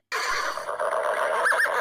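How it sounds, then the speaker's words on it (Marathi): A horse neighs in one loud, close whinny that wavers and trembles throughout, ending in a quavering flutter. "घोड्याचे किंकाळणे"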